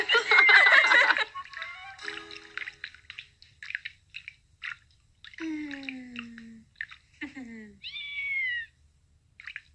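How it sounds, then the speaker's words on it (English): After a loud burst, a kitten gives several short, thin meows scattered among soft wet chewing and squishy sounds. "She's Beth's kitten, Amy."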